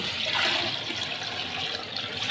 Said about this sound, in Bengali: এই জায়গায় দেওয়া হলো ঝোল